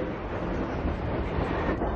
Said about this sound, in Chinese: 这条铁路上只跑一种火车，那就是载重超过2万吨的重载列车